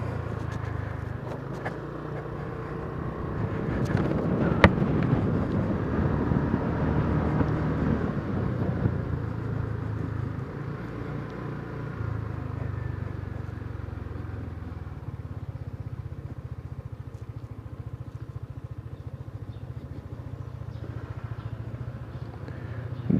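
A Kymco Downtown 250cc scooter rides along the road, its engine drone and wind rumble holding steady and fairly loud throughout, with one brief sharp click partway through and no talking.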